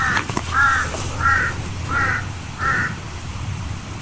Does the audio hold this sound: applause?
no